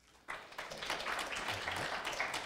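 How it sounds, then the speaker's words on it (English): Audience members clapping at a science and cinema panel event, a burst of applause that starts abruptly and holds steady at moderate volume, with scattered individual claps across the room. "clap if you're a scientist. And clap if you're a filmmaker"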